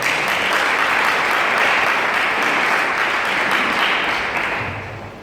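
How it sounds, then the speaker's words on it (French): A church congregation applauds in one steady, dense wave of clapping that fills the space, then gradually fades toward the end. "acclamons le Seigneur"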